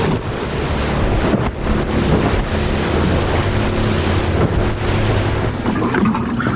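Strong offshore wind buffets the microphone aboard a small fishing boat, a loud continuous roar with rushing gusts and water noise underneath.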